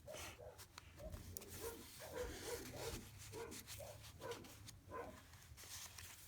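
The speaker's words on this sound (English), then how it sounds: "My dogs are going crazy." Dogs bark and yelp repeatedly somewhere in a house, faint and somewhat distant, with scattered rubbing and handling noises close by.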